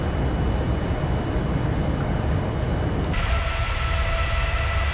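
Engines of a Boeing 787-9 airliner in a flight simulator game give a constant, dense roar, and partway through the tone shifts abruptly to a thinner, brighter hum.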